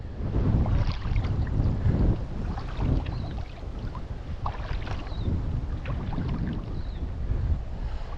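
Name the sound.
wind blowing while fly fishing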